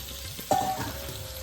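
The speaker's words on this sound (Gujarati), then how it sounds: "બધું ગરમ થાય એટલે એમાં કાપેલા શિમલા મિર્ચના કટકા નાખી દો." Chopped capsicum tossed into hot oil with turmeric and asafoetida, a sudden close hiss of frying that then settles into a low, steady sizzle.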